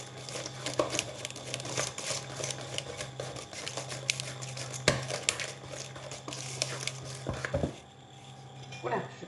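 Cake batter with salt and nutmeg whisked by hand in a bowl, a busy continuous scraping and tapping with a few sharper clinks, with a person talking over it.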